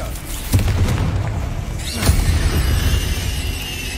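Two quick booming bursts from the Confringo fire spell in the video game Hogwarts Legacy land about a second and a half apart, loud and close, with a crackling rumble between and after them.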